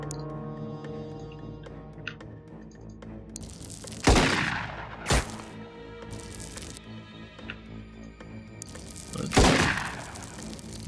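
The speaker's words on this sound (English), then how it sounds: "You really have to stop shooting around." Gunfire in the tactical video game Xenonauts sounds out as a few sharp, separate shot bursts over a low hum of background game music.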